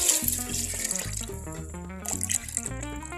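Fish sauce poured into a cup makes a steady liquid trickle and gurgle, close and moderately loud, running for a few seconds with small splashing changes in pitch.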